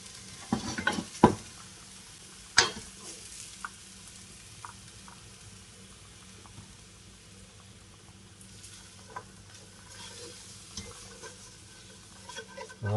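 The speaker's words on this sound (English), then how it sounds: "that's just starting to sizzle a little bit in the bottom of the pan" Green chilies, onion and garlic sizzle gently in a pan, a low steady frying hiss broken by a few sharp clinks and scrapes of stirring, quiet and close with no talk.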